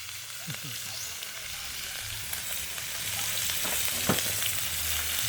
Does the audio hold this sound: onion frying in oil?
yes